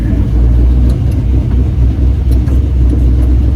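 A Chevy cab-over van conversion idles with a steady, deep engine rumble as it backs out of a garage. The low drone is loud and close, with no talk over it.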